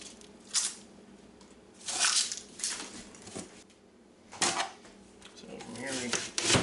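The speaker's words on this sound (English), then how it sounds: "So I'm just going to chop mine on the board." A knife chopping meatloaf vegetables on a cutting board, heard as a few irregular, fairly soft crunching cuts spread across the moment, close by and without any steady rhythm.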